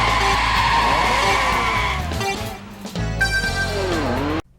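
A Ferrari Testarossa in the Outrun 2006 racing game skids hard, loud tire squeal over a roaring engine with shifting pitch, a short lull, then another screeching slide that cuts off sharply at the end.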